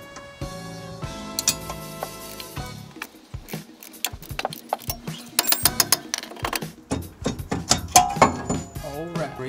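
A wrench working a nut on the brake caliper of a BMW E90 3 Series, giving irregular metallic ratchet clicks and clinks up close while someone talks throughout.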